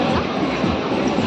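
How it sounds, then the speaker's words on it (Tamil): A train rolling past, a dense, steady rumble and rattle of rail cars that stays loud and close through the whole moment, no clear voices. "ட்ரெயின்."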